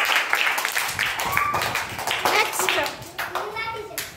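Children clap their hands in a short burst of praise during a Telugu word-identification lesson on household items like pots, with sharp, close claps mixed with a voice and other talk.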